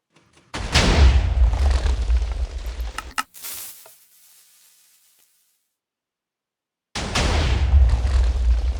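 Minecraft TNT cannon with a sand stacker firing shots: two long, loud roaring blasts with hissing spray, separated by several seconds of silence.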